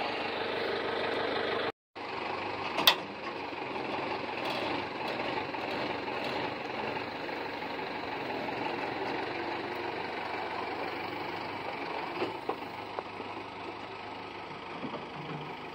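A steady mid-pitched tractor engine drones on, idling or pulling while towing an old 1965 Mack B61 dump truck, with a brief dropout near the start and a few clanks and knocks over the hum.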